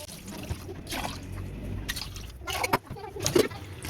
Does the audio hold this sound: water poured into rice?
yes